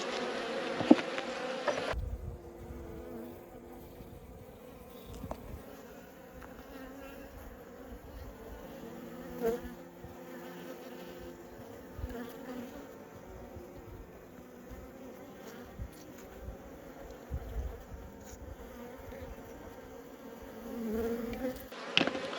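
Honey bees swarm and buzz steadily around an open hive during a late-season inspection, a continuous droning hum with scattered louder passes close by, with no talking.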